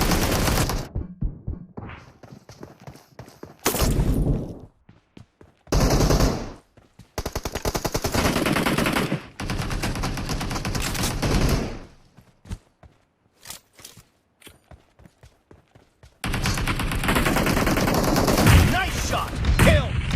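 Bursts of automatic gunfire from the PUBG battle royale game, played with a controller, come in rapid rattling volleys separated by short gaps, with a longer sustained stretch of fire near the end; loud and close.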